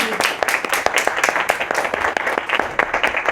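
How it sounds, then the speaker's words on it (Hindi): A crowd applauds at a Hindi stand-up comedy show, dense clapping at a steady, lively pace with a few sharper claps standing out, fairly close and loud. "मेरे अच्छे बॉस के लिए जोरदार तालियां हो"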